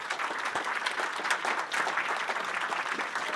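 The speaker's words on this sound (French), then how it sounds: "on peut déjà beaucoup les remercier pour l'expertise qu'ils nous ont apportée, en les applaudissant bien sûr" A conference audience applauds the expert speakers on Islamist terrorism with steady, dense clapping from a large crowd, filling the whole stretch evenly with no talk over it.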